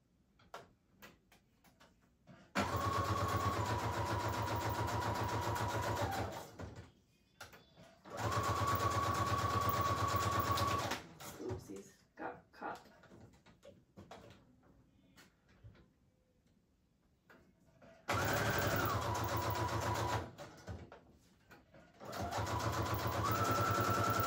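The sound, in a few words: sewing machine stitching junk journal base pages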